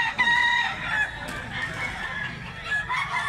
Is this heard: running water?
no